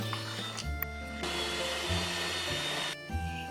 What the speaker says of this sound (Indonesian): Saya mixer dengan kecepatan yang tinggi